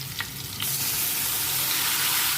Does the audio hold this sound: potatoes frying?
yes